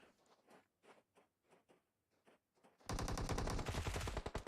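Gunfire in PUBG Mobile: sparse footstep-like taps first, then a sudden loud, rapid automatic spray of shots that continues to the end.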